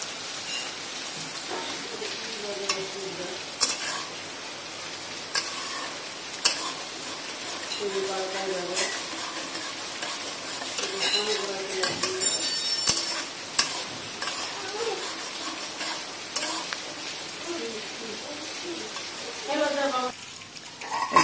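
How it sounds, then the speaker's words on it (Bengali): Sliced onions fry in hot oil in a pan, browning into crisp birista for chicken biryani, a continuous rain-like sizzle with occasional stirring clinks and scrapes, fairly quiet, and a voice talks intermittently over the sizzle. "এবার এই পেঁয়াজগুলো আমরা বেরেস্তা করে ভেজে নেব।"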